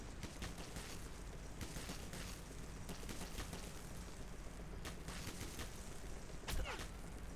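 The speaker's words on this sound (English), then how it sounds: "Alright, so they are shooting at us." Enemy gunfire in Metro 2033, sporadic shots and short bursts scattered through a continuous noisy, rumbling background, fairly distant and muffled rather than close.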